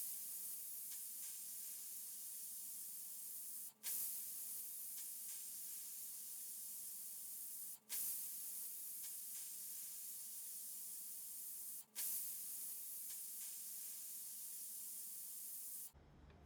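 A pressure cooker of mutton for yakhni pulao lets off a steady, loud hiss of escaping steam, with brief gaps roughly every four seconds.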